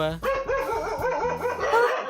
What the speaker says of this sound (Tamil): மாமா நாய் துரத்துது